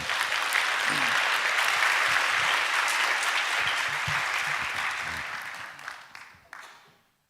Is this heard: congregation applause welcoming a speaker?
yes